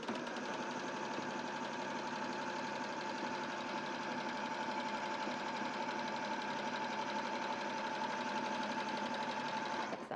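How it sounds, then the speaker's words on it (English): A sewing machine runs a zigzag stretch stitch along shoulder seams with a steady, even mechanical whir at a constant pace for about ten seconds, fairly quiet and close, without any speech. "So it does take a little bit longer to stitch. Normally we would be whizzing these up, but because it's doing a zigzag, it takes a little bit longer."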